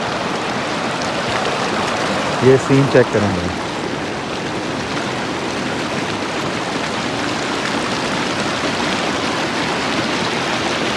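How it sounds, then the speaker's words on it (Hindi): A rushing glacier meltwater stream in the mountains along the Besham–Chillas road in Pakistan flows with a steady, broad hiss throughout, and someone speaks briefly over it early on. "ये पानी की आवाज़ ही बहुत ज़्यादा खूबसूरत होती है"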